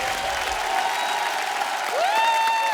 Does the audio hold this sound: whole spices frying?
no